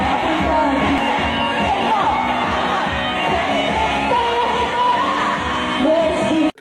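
Men scream loudly and continuously to release stress, the raw yelling filling the whole span at high level before cutting off abruptly at the end.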